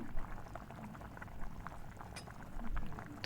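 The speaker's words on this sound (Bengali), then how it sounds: "এখন মাছগুলো ঝোলে দিয়ে এই ঝোলটা ভালো করে ফোটাবে" Fish curry gravy with parshe fish bubbles in a covered pot, a faint, steady soft simmering burble with small irregular pops throughout.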